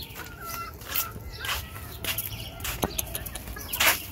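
Big and small chickens kept together cluck and squawk in short, scattered bursts at moderate distance, with a brief flutter of wings and farmyard background noise; no talk.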